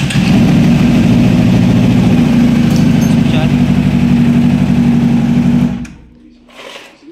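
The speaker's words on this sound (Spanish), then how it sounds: "tenemos esta CBR 600 que nos está fallando" A Honda CBR 600 motorcycle engine idles unevenly with faulty ignition coils, a loud, close, rough rapid chugging that holds steady for several seconds, then fades away as a person talks over it.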